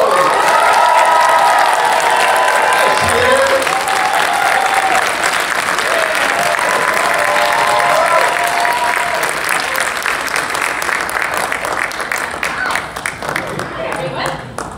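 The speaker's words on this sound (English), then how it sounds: "Big Texas round of applause." A large fan-festival audience in Dallas gives a long, loud round of applause mixed with cheering and whoops, steady for the whole stretch and fading slightly at the end.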